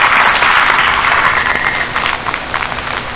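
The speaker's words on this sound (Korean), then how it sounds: "박수 한번 쳐주세요." A crowd at a live radio show broadcast claps steadily in dense, sustained applause that thins slightly toward the end.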